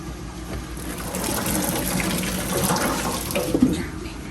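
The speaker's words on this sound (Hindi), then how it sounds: "अब इसके पानी को हम करेंगे ड्रेन।" Water from boiled rice pouring through a sieve while cooking Hyderabadi biryani, a steady close rushing and splashing flow that swells slightly and carries on throughout.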